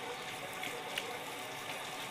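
Steady hose water spraying and splashing while a dog named Kalu is bathed, a continuous broadband wash with a small splash near the middle and no voices.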